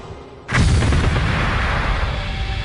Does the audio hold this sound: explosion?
yes